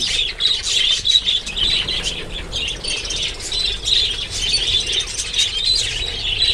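Parrots in a cage give shrill, continuous squawks and chatter, dense and fairly loud throughout, with no talking.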